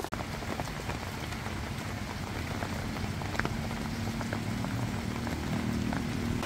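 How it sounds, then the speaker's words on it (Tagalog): Heavy rain pours steadily at a woodland campsite during a motocamping trip, a dense, continuous hiss of drops drumming on surfaces with occasional louder splats, close and unbroken throughout. "Ang lakas ng ulan, tapos pag tinignan nyo dun sa labas, baha na siya"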